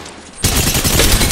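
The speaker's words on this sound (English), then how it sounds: "Listen up, I'm getting shot at." Dense, rapid gunfire from an Apex Legends match bursts in after a brief quieter moment, a loud sustained fusillade of automatic shots filling the rest of the moment.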